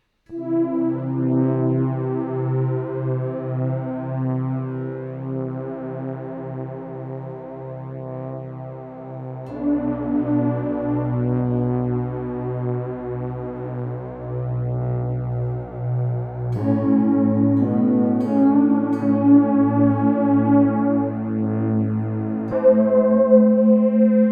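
Sustained chords from a Lost & Found synth pedal used as a pad, each held for several seconds with a long reverb tail, shifting to a new chord twice; no voices.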